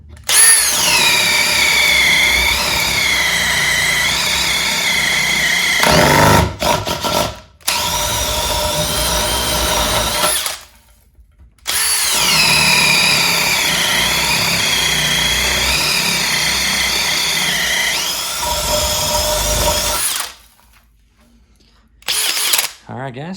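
A Makita hammer drill bores with a spade bit in loud, sustained whining bursts of several seconds each, the motor pitch wavering under load, with two short pauses and a final brief spin-up.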